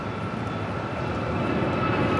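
A JetBlue airliner rolls for takeoff on runway 25 right at LAX, its engines a steady broadband roar that swells slightly over a couple of seconds, fairly near and loud.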